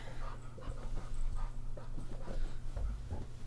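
A dog pants rapidly and steadily nearby, with occasional soft whimpers and a low background hum throughout.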